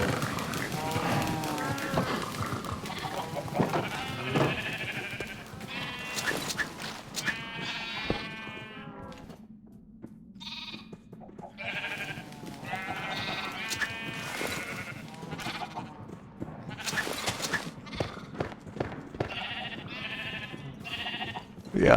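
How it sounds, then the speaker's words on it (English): Repeated sheep bleats sound from a Minecraft hardcore permafrost modpack world, where a sheep is stuck on the wrong side of a barrier; several wavering cries come in bursts with brief gaps, fairly close, with some game noise mixed in. "Looks like we got a sheep trapped on the wrong side of the thing over there."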